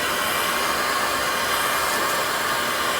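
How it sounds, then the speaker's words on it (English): A vacuum cleaner runs steadily while cleaning out the pipe of a coal-burning stove, giving a loud, constant broadband whoosh with no breaks and no talking. "The vacuum is helping me do an almost flawless job so far."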